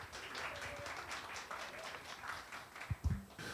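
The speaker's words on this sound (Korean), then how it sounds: "큰 박수로 출연진 모시겠습니다" Faint applause from a live broadcast audience, a soft wash of clapping heard from a distance, with a couple of louder thumps near the end.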